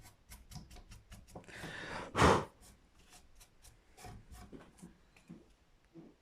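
A file rasps through the slots of a plastic nut on a Stagg acoustic guitar in short, close strokes, with one louder, longer scrape partway through.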